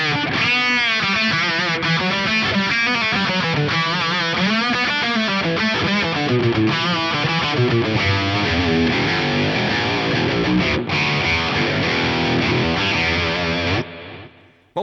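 A heavily distorted guitar plays a continuous melodic line through chorus, delay and multi-tap reverb, dense and loud, cutting off abruptly near the end.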